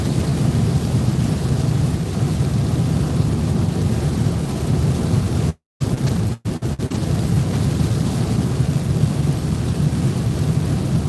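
Thunderstorm at night in the Texas Hill Country with heavy rain and deep rumbling thunder, a loud continuous roar broken by a couple of brief dropouts midway.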